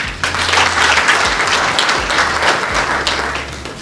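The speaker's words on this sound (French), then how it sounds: "Excellence, nous applaudissons." Loud, close applause from attendees at the closing of a national Caritas forum in Congo, a thick burst of clapping that starts abruptly and carries on evenly without speech.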